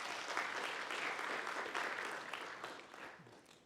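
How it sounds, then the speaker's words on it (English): A lecture class applauds a student in a computing course, an even wash of clapping from a roomful of people that gradually thins out near the end, heard faintly without voices. "Can we have a round of applause for Ashno who figured this one out?"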